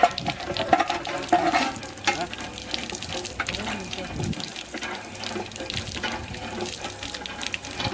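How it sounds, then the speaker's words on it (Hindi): Water gushes from a hand pump tap at a borewell set up beside a submersible motor pump, splashing and clattering unevenly in a close, continuous flow with busy watery texture. "नल तो बहुत ही बढ़िया चल रहा है आप देख सकते हैं पानी भी अच्छा खासा दे रहा है"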